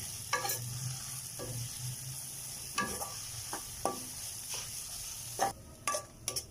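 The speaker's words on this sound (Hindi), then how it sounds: "हमने 2 मिनट तक लहसुन अदरक को भूना है।" Garlic ginger paste sizzles and fries in a pot, with occasional scraping stirs of a spoon; steady, moderately close, no talking.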